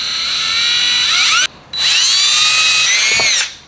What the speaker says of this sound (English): you're going to be getting your 1/8 inch drill bit here